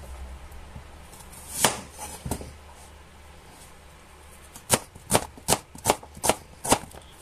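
A knife chops through an onion on a cutting board, a few scattered cuts followed by a quick run of six or seven sharp, close taps in a quiet kitchen.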